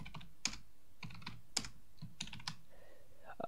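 Typing on a computer keyboard while entering data into a Windows application: quick clusters of close, crisp key clicks in short bursts, with brief pauses between them.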